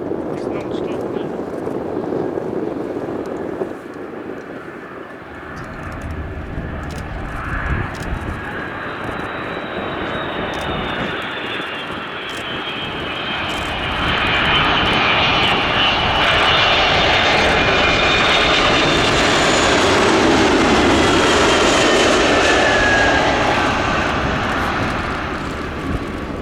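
A US Air Force Boeing KC-46A Pegasus jet arrives at an air show, its engine roar building from moderate to a loud, sustained whine and rumble, with people talking nearby.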